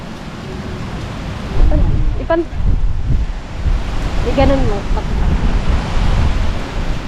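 Strong wind roars steadily and loudly into the microphone in an open farm field, buffeting it, while people talk briefly underneath.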